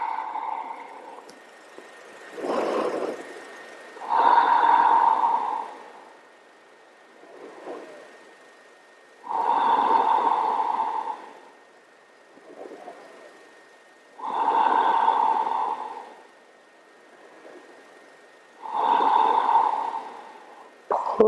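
Slow, deep breathing during the yoga crocodile pose, lying face down, with steady drawn-out breaths repeating about every five seconds, close and clear in a quiet room.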